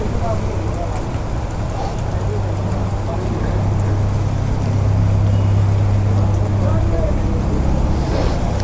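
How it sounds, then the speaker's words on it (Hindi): Heavy rain pours steadily outdoors as a dense, loud wash of noise with a persistent low rumble, continuous throughout and without clear breaks. "ये बारिश तो रुकने का नाम ले नहीं रही है"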